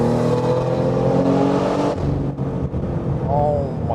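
A tuned BMW M4 G82 accelerating hard in third gear, a loud close engine roar climbing in pitch, then a sudden drop as throttle lifts, followed by lower rumbling and a short whine.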